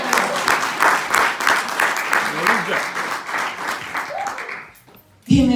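A church congregation claps in praise, a dense, steady wave of applause filling most of the moment before fading out, with a voice and brief sound rising at the very end.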